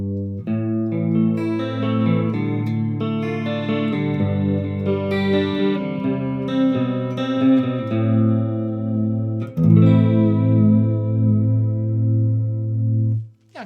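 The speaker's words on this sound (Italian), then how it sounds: "Questo è proprio il suono delle ballad di ormai 30 anni fa." Electric guitar through a Positive Grid Spark amp set to a 1980s ballad tone, playing chords and melodic lines with chorus shimmer, echo and reverb, loud and steady with no talking.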